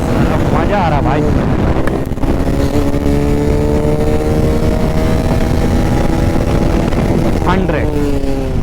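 Bajaj Pulsar 220F motorcycle accelerating hard from 0 to 100, a loud close engine note climbing in pitch through several gear changes, heavily buffeted by wind roar, with a voice faintly present.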